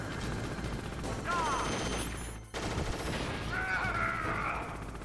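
Gunfire from Liquid during a battle in Metal Gear Solid, a dense, continuous rattle of shots under a droning background, with a brief gap midway and a rising whine afterward.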